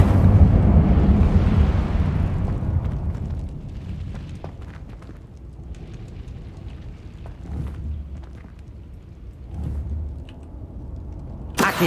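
An Incendio fire spell cast in Hogwarts Legacy, a heavy, booming burst of flame that roars loudly at first and then fades into a lower crackling rumble, with scattered smaller pops and a sharp hit at the very end.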